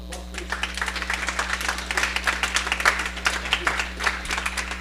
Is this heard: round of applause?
yes